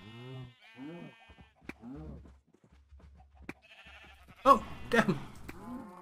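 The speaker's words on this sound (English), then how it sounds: "damn! I didn't mean to shoot that sheep" Sheep in the Minecraft video game give three or four short, wavering bleats in quick succession. A brief voice exclamation follows, with sharp game impact sounds.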